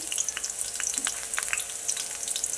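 Oil sizzles and crackles steadily in a pan as onions and curry leaves fry for a fish shana fry, with small pops and occasional stirring scrapes close by.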